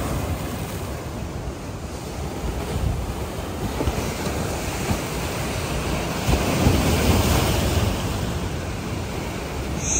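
Heavy surf roars and churns continuously at high tide against a seawall at Boa Viagem beach, Recife, with gusty wind noise over it, the water surging louder in places as waves break close by.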